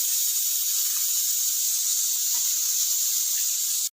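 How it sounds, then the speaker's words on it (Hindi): Mutton pieces hit hot oil in a pan and set off a loud, steady, close sizzle that keeps hissing evenly without a break until it stops abruptly. "सबसे पहले हम ऑयल में गोश्त को डालते हैं"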